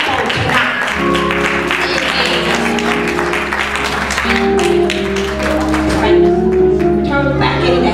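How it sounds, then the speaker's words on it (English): Congregation clapping during an Apostolic church service, mixed with a sustained organ or keyboard chord and shouting voices, loud and lively throughout. "Let's give everybody a hand clap on tonight."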